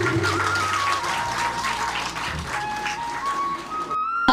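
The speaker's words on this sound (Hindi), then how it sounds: "ट्रॉफी देते हुए जोरदार तालियां प्लीज" Audience applause for a trophy presentation at a women's day award ceremony in Uttarakhand, a steady, dense clapping that holds loud for several seconds, with tonal background sound over it, before breaking off briefly near the end.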